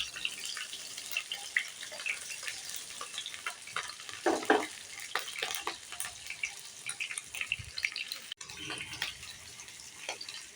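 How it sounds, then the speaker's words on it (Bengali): Hilsa fish pieces fry lightly in a pan, a crackling, watery sputter with scattered pops and occasional scraping, moderately loud, with no voices. "মাছগুলো হালকা করে একটু ভেজে নেব, বেশি ভাজবো না।"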